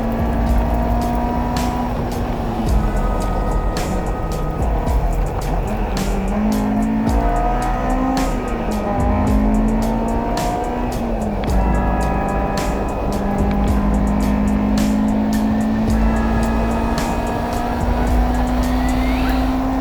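Honda S2000 race cars at full throttle during a track time trial at ORP South Loop. The close in-car engine roar holds loud throughout, with pitch rising through gear changes and brief tire squeal as the cars run side by side.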